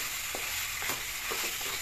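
Quiet, continuous sizzle of spices frying in a pan, with faint stirring scrapes now and then.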